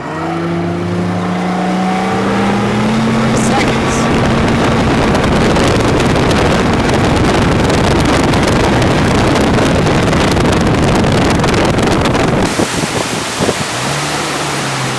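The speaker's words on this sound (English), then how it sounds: "Let me show you how fast this boat planes off." A Falcon 205 bass boat's outboard climbs in pitch as it accelerates hard from rest, then settles into a loud, rushing roar with wind and water noise as the hull planes off; no voices.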